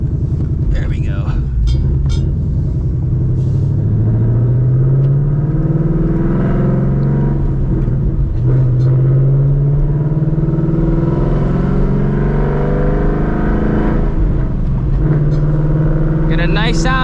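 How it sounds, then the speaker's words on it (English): Ford Mustang GT S650 V8 revving with a new exhaust, deep rumbling revs rising and falling up close, with brief voices at the start and end. "This is what this car is gonna sound like up till we get to the exhaust shop."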